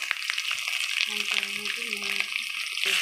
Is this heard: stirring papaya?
yes